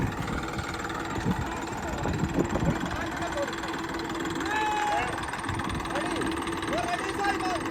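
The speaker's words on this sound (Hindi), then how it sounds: "अपनी थार और जो मैसी ट्रैक्टर है इनमें कराएंगे टैग ऑफ वॉर" Engines of a Mahindra Thar and a Massey Ferguson 241 tractor labour in a tug of war, a low rumbling drone at moderate distance with rough bursts, while voices talk and call out over it.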